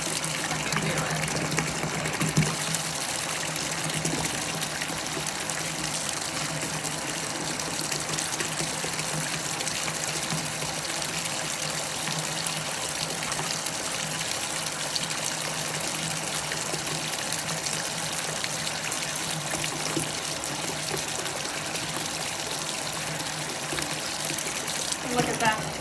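Running bath water gushes steadily around a bubble spinner held under the tap, a continuous broadband splashing and trickling that stays loud and unbroken throughout.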